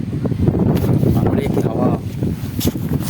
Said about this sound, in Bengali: হাওয়া চলছে, তোমরা শুনতে পাচ্ছ আওয়াজটা?